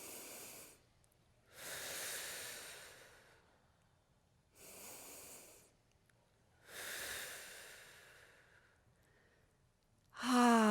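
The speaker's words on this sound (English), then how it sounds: "A couple of nice breaths together." Slow, deep breathing during a quiet energy routine: roughly four long, soft inhales and exhales, close and calm with pauses between them, followed by a brief voice at the very end.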